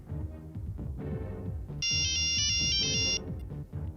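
A mobile phone ringtone plays a bright, repeating electronic melody, loud and close, over a steady background music bed, with no talking.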